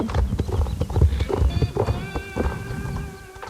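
Video game horses in stable boxes produce clip-clop hoofbeats and snorting, with a whinny rising near the end, all close and fairly loud over a steady tonal game backdrop.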